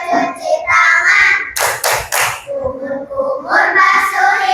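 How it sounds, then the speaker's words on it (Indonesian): Young children in a classroom doing a rhythmic ablution clapping chant, sung voices broken by a quick burst of three sharp hand claps before the chanting resumes. "Coba kita sama-sama tepuk wudu dulu."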